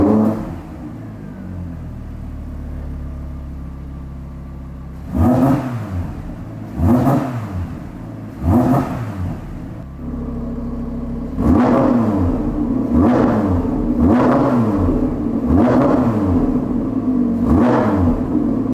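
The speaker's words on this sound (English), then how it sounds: "Let me give you some revs now" An Audi R8 V10 facelift with a Milltek exhaust and tune, valves shut, idles with a low rumble and then gives a series of sharp static revs. Each rev rises and falls, loud and close, with a quicker burst of revs at the end.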